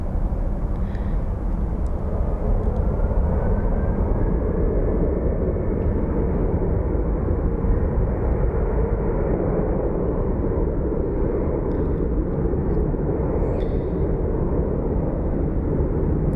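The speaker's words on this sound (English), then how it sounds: "Can somebody tell me what the plane that's coming in is?" An airplane coming in to land at Phoenix Sky Harbor gives a loud, steady, low rumble that fills the whole stretch without fading, with no talk over it.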